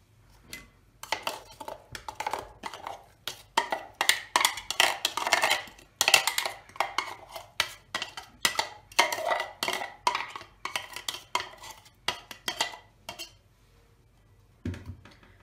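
Cooked onion and garlic tipped from a pan into a metal strainer set over a bowl, giving a quick run of close clinks, taps and scraping knocks in an irregular rhythm against a quiet room.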